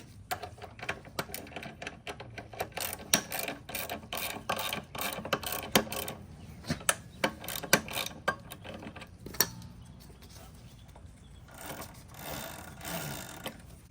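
A nut with a lock washer is tightened on a Razor E200/E300 scooter's extended rear swing arm, giving rapid, close ratcheting clicks in uneven bursts that thin out toward the end.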